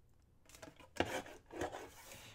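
Paper being cut for a belly band, a few faint close snips and rustles in a quiet room.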